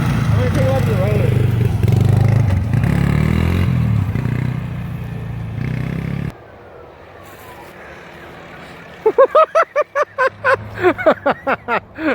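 A Yerf Dog Murray go-kart engine drones loudly on the road and then cuts off, followed by a run of short, sharp bursts, with talk heard over parts of it.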